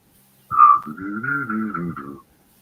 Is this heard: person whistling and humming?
yes